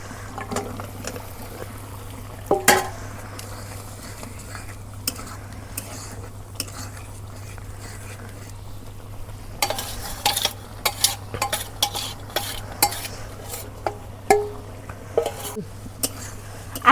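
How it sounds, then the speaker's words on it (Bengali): Beef pieces from a qurbani animal added to cooked spiced masala and stirred in a pan, with a low steady sizzle, frequent sharp scrapes and clanks of a spoon against the metal, busier toward the end. "মশলা কষানি হয়ে গেছে, এখন মাংস দিয়ে দেব।"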